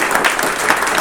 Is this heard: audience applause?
yes